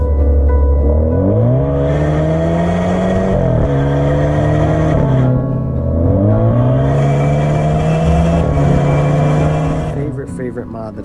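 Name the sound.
car engine accelerating through corners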